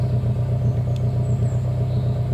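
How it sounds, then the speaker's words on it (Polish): Nissan SR20DE four-cylinder petrol engine idling steadily near 900 rpm without hunting, a constant low exhaust rumble and light mechanical clatter close by, with no talking. "obroty nominalne tutaj niecałe 900 pyka sobie bez żadnego falowania co ciekawe Trochę zmienił się dźwięk z wydechu."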